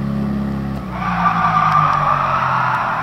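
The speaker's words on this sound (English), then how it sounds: "Handbrake turn." A 1968 Fiat 500 F skids through a handbrake turn in the Gran Turismo Sport racing game, a steady loud tire scrub taking over from the low engine drone after about a second.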